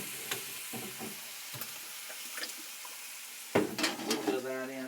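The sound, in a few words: stir-fry boiling and stirred in a pan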